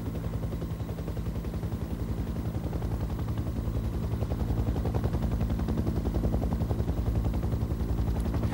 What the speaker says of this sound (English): The gunships remain in the area throughout, circling and laying down suppressive fire